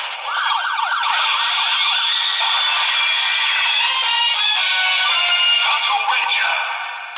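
A Lupinranger DX VS Changer toy gives off loud, continuous electronic sounds with a warbling, siren-like wail at the start, close and without talking.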